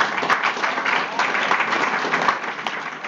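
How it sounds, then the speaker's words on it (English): Steady applause from an audience fills the whole stretch, a dense continuous patter of many hands clapping at even loudness. "a round of applause for her, please"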